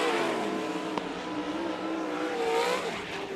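USAC CRA 410 sprint cars race a heat at Bakersfield Speedway, their engines roaring in a loud continuous drone with pitch rising and falling as cars sweep past, no talk over it.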